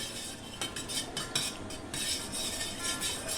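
A spoon stirs curd into raw milk in a bowl for homemade shrikhand, giving a run of quick scraping, clinking strokes up close with short pauses between them.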